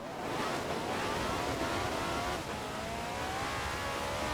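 Race-tyred all-wheel-drive car in Forza Horizon 4 accelerating hard on snowy roads, engine note climbing steadily as it revs up through a speed trap, loud and continuous with no talking.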